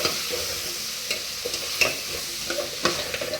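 Potatoes frying in a pan with chilli powder, stirred steadily: a continuous crackling sizzle with repeated scraping knocks of the spoon against the pan, close and fairly loud, no voices.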